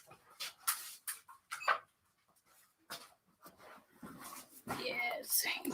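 Dog whimpering and panting in short, irregular bursts close by, with quiet gaps between, alongside a person speaking softly.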